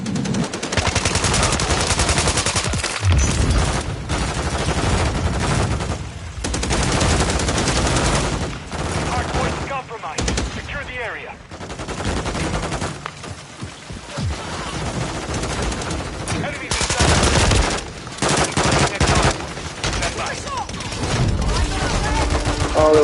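Constant dense video-game gunfire, loud and near, with overlapping automatic bursts that barely let up and only brief dips, and faint voices mixed in.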